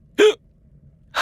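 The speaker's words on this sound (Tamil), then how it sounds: "அதனாலதான் உங்களுக்கு இப்படி விக்கல் வருது." A single sharp hiccup, loud and close, comes from a man in a Tamil period comedy drama, with a quiet pause after it before another voice begins.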